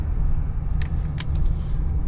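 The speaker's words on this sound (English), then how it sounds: "It's kind of cool driving the diesel." Steady low engine rumble from a 2021 Ford F-250 Harley Davidson Super Duty diesel truck while driving, with faint ticks and clicks over the drone.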